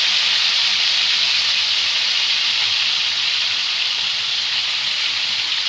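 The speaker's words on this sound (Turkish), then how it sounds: "Biz de ciğer kısık ateşte pişerken, savrulurken." Liver cooks over low heat in a pan, giving a loud, steady close hiss and sizzle that holds throughout without pause.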